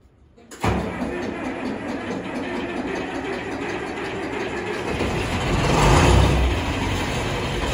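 A John Deere 3010 diesel tractor engine starts and runs steadily in cold weather after a fuel pump repair, a loud continuous rumble that swells briefly before settling, with no talk over it.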